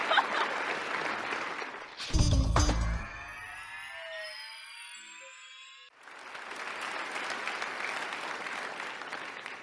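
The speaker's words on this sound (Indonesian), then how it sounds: "Harus dikasih tepuk tangan." Studio audience applause on a TV talk show: a burst of clapping, then a short electronic musical sting with swooping tones, then the clapping returns and carries on steadily.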